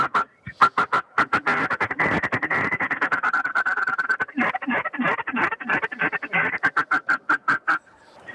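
A Trickster duck call blown by a person imitates a mallard in rapid runs of raspy, nasal quacks, loud and close, with short pauses between bursts and no talking.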